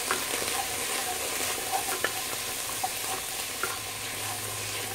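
Turkey chili being stirred in a pot, a soft steady sizzle broken by scattered light clicks and scrapes of the spoon, close and fairly quiet, no talking.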